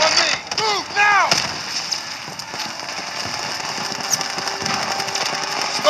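Gunfire and artillery from the World War II shooter game Call of Duty WWII, with loud bursts and impacts early on, then a dense, steady rumble of battle noise throughout.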